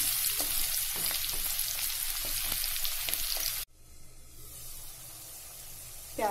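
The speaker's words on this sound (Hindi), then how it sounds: "प्याज हमारा भुन गया है" Onions and green chillies frying in a pan for a Matar Paneer, a dense close sizzle that cuts off abruptly partway, leaving a softer hiss before a brief stir at the end.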